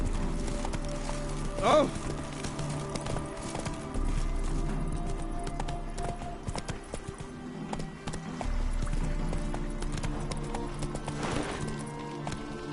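Roach the horse gallops in The Witcher 3, with steady rhythmic hoofbeats, snorts and a brief whinny over a game music bed, while a player exclaims once.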